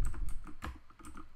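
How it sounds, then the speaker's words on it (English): Computer keyboard keys clatter quickly and lightly as a command is typed on a Windows PC, with a rapid irregular run of close, soft clicks and no voices. "To enable it, we just have to type in bcdedit set"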